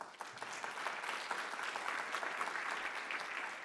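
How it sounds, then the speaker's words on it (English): A conference audience gives a fairly quiet round of applause, steady clapping from a mid-distance crowd that holds through the whole stretch. "If I could get just a little teeny applause for my board."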